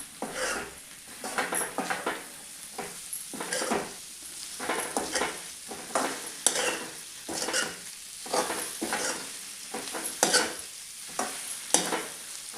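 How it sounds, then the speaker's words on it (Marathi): Brinjal curry being stirred and sautéed in a pan, a spoon scraping in steady repeated strokes over a soft sizzle, close and fairly loud with no talking. "आणि पुन्हा छान असं एक मिनिट भर छान असं परतून घ्यायचं आहे एकसारखं हलवायचं"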